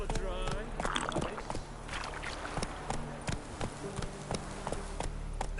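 Roach, Geralt's horse in The Witcher 3: Wild Hunt, gallops with steady hoof clip-clops over a busy game soundscape, with talking woven through.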